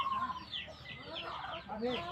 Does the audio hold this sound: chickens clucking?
yes